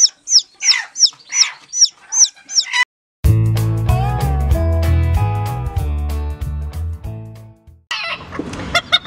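Chickens and a rooster in a farmyard, with a run of loud, repeated clucks and calls close by that give way to a burst of music, then more bird calls.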